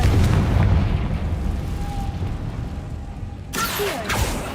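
A Confringo fire spell explodes in the video game Hogwarts Legacy, a loud booming blast at the start whose roar tails off, followed by another sharp burst near the end.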